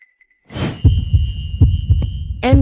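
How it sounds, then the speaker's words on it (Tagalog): A fast heartbeat sound effect thumps in a quick, regular series of low beats after a brief rush, with a soft sustained tone above and a breathy sound near the end. "Bakit ang bilis ng tibok ng puso mo?"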